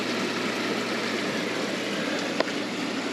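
A roadside stream full of koi carp runs through the town of Tsuwano in Japan, its water rushing and gurgling in a steady, even wash from start to finish, with a single faint knock near the end.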